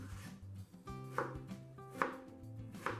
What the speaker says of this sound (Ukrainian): В першу чергу на великі кубики нарізаємо один баклажан.